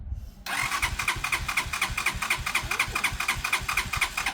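A Lexmoto ZSB motorcycle engine fires up after a brief crank, then settles into a close, loud, steady pulsing idle, with no one talking.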